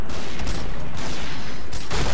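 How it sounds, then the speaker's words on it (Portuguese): Rapid gunfire in the shooter video game Point Blank, a dense loud burst of shots filling the short moment, close and continuous with no speech. "tem que dar uns tiros rápidos"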